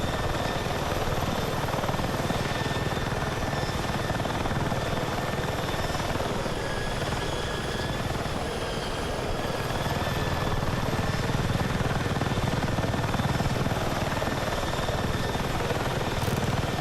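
A helicopter in the video game Battlefield 6 drones steadily with a constant rotor thrum and whine, loud and sustained throughout with no other sounds on top.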